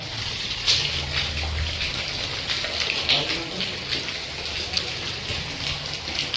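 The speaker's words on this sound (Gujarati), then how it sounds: "આ જો વરસાદ તો ચાલુ જ છે, તો બંધ છો જ નથી" Steady rain falling outdoors, a continuous soft hiss with scattered drops and splashes, moderately loud throughout with no break.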